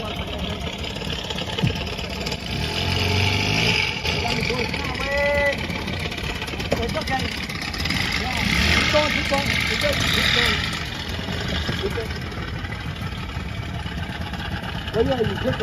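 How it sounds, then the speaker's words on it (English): A steady motorboat engine drones on the water while towing a Com-Pac 23 sailboat, constant and fairly loud, with a low mechanical rumble and hiss throughout. "We're being towed, but we're on the water."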